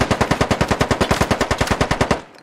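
Rapid automatic gunfire in the shooter game Squad: a loud, close, sustained burst of about twenty evenly spaced shots in quick rhythm, ending abruptly.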